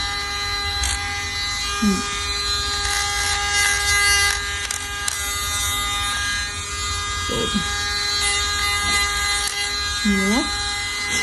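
A battery-powered three-speed engraving motor with a removable battery runs at a steady, fairly loud whine for the whole stretch while a person talks over it.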